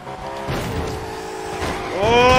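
A car in the racing game Forza Horizon 3 brakes hard, its droning engine tone shifting as tyres begin to squeal and skid, with the whine rising and growing louder toward the end.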